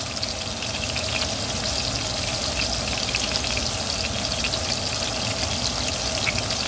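Pressed smash-burger-style patties fry steadily in a hot pan, a loud, even sizzle with bubbling crackle that holds constant throughout, with no voices over it.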